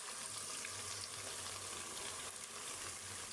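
Dissolved milk powder sizzles in a hot frying pan of meat, a soft, even crackling hiss that holds steady throughout without pause, quiet and close, with no speech.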